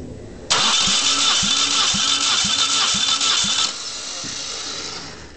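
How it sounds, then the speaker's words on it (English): A Saturn car engine cranks over during a compression test, with about seven rhythmic starter turns in a row, close and loud, against a steady background hiss. "Now we want to turn the engine over about 7 times or until the pressure stops increasing"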